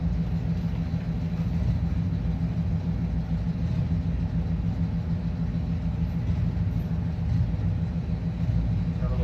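A car does a burnout at a drag strip before the race: a dense, continuous engine roar and rumble holds at steady loudness throughout, with faint voices beneath it.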